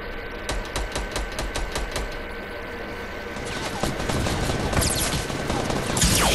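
Gunfire in the video game Fortnite Battle Royale, a rapid string of loud, evenly spaced shots followed by denser, more chaotic bursts.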